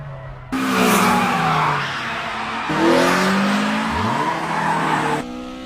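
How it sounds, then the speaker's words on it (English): Tires squeal loudly as a car skids and drifts in the Initial D arcade racing game, with two long screeching slides over engine noise, the second pitch sweeping down as the slide ends. "I just gotta skid the back wheels early and let all four of them drift"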